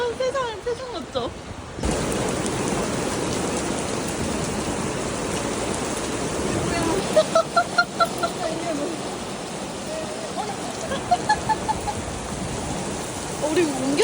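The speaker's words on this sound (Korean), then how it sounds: "아니 비도 아니고 우박이 이렇게 갑자기 떨어진다고?" Sudden heavy rain with hail pours down on an outdoor spot in Budapest, a dense, loud roar that starts abruptly and keeps drumming while people talk and exclaim over it.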